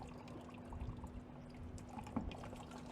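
Faucet water runs steadily through a wash sieve rinsing a soil sample, a soft continuous splashing and trickling with a faint hum beneath and a small clink near the end.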